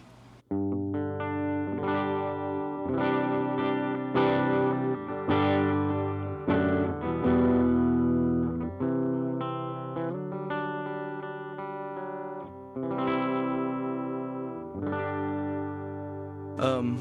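An electric guitar plays chords and riffs through a Blood Oath distortion pedal, crunchy and sustained, with short pauses between phrases.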